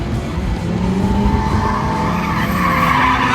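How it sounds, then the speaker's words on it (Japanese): A red Mustang drifts in a tandem run at a motorsport drift event, its tires squealing and skidding continuously over a steady roaring engine, loud and close throughout with no talk. "あっちゃんはタンダムもう2台でドリフトしてみたいって言ってて"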